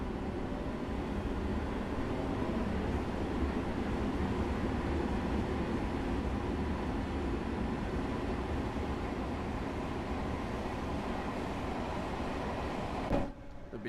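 A train rumbles along banged-up track in the video game Train Sim World, a steady low broadband roll at moderate level that continues unchanged for several seconds before a short thump near the end.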